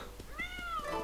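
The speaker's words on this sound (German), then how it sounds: "Ich bin eine kleine Katze. Miau." A cartoonish cat meow from the video game Mini Ninjas, one drawn-out rising and falling call heard alone over a steady game background.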